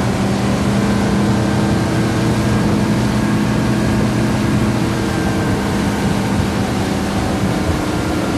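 A Sea Ray Sun Sport 250 motorboat cruises at just over 3000 RPM, about 40 km/h, its engine a steady, loud drone mixed with rushing water and wind, continuous and close throughout with no talking.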